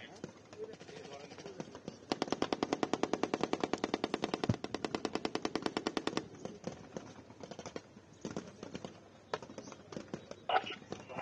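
Rapid bursts of army automatic gunfire ring out during a Bangladesh Army firepower demonstration, a dense sustained volley for several seconds followed by scattered sharper shots, with a voice talking underneath.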